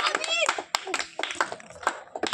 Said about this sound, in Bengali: দুটো হাততালি, হাততালি, হয়ে যাবে